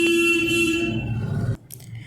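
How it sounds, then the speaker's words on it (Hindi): Car horns honk outside a home in traffic noise, loud and sustained at first with a long blaring tone, then the honking drops away into a rumbling street background with a brief higher toot near the end. "जहाँ पे मैं रहती हूँ वहाँ पे बिल्कुल ऐसे मतलब हॉर्न की आवाज़, शोर आती रहती है"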